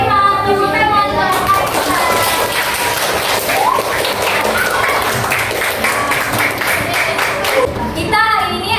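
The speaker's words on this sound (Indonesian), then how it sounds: "Tepuk tangan." Children clapping their hands together in a classroom, a busy burst of applause with young voices and chatter mixed in, steady and close throughout.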